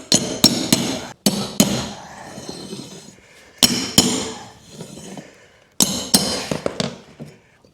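Luxury vinyl plank flooring knocked into place with an installation tool, a few sharp close taps in quick clusters separated by pauses, each followed by a brief scraping rattle.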